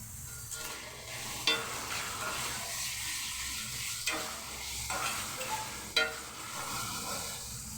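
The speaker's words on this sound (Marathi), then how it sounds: "टॉमॅटो टाकत आहे त्याच्यात टॉमॅटो पण असं चांगला परतून घ्यायचं" Tomatoes sauté in a pan for a paneer curry, a quiet steady sizzle punctuated by a few sharp spatula knocks and scraping stirs against the pan.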